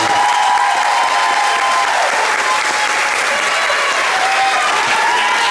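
A large audience at a school moving-up ceremony for the class of 2021 breaks into loud, sustained applause, a continuous wash of clapping with light crowd noise and a faint tone beneath.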